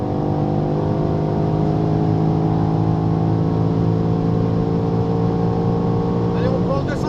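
BMW X6 M engine at full throttle on the Dijon race circuit, heard from inside the cabin as a loud, steady, deep roar with strong harmonics that holds constant and then shifts pitch near the end.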